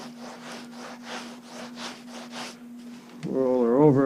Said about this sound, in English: I'm using the flat edge to push that hide off